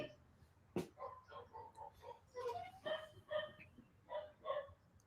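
Neighborhood dogs bark faintly in the distance in a steady run of repeated yips and woofs, with one sharp bang near the start.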